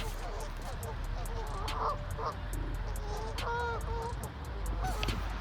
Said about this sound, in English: Man, these geese are unhappy today.